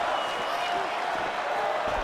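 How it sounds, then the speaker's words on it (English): A UFC arena crowd reacting to a landed punch, a brief swell of cheering and murmur sitting under a commentator's voice. "that gets a pop from the crowd"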